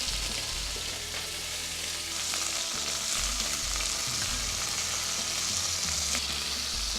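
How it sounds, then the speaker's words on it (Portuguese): Meat sears in a hot iron pan, browning on all sides, with loud continuous sizzling and crackling spatter throughout, plus a few low knocks of the pan or utensil, close up. "Vou selar então a carne. O importante agora é selar eles de todos os lados,"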